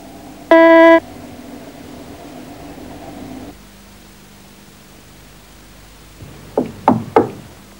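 Knocking on a door: three quick, close raps come near the end, after a short electronic beep and a stretch of quiet room hiss.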